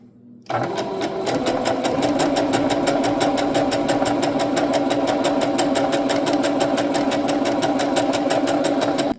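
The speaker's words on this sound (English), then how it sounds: "Let's go ahead and sew a zigzag and show you what that looks like." A sewing machine sews a zigzag stitch, running loud and steady with a fast, even mechanical clatter after a brief quiet start.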